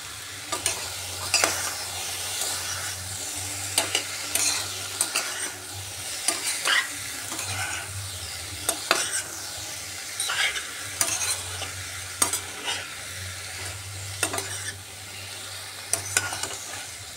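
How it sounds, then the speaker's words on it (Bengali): Ash gourd curry stir-fried in an open pan, a steady sizzle broken by repeated scraping stirs of a spatula every second or two, close and continuous with no voices. "এবার ঢাকাটা সরিয়ে আরেকবার ভালো করে একটু কষিয়ে নিচ্ছি।"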